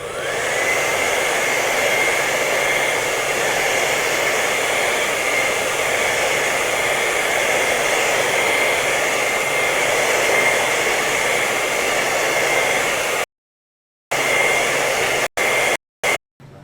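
Hair dryer blowing steadily to dry an art project in a studio, a loud continuous whooshing roar that cuts out abruptly near the end with a few short restarts.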